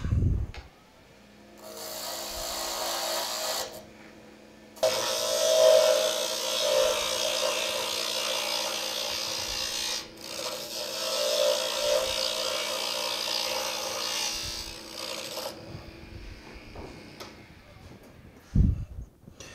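A wood lathe spins a rolling pin blank while a carbide tool scrapes and rasps against the wood, a steady near whirring hiss with short pauses and a low motor hum beneath.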